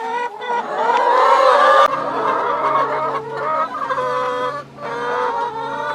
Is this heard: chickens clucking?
yes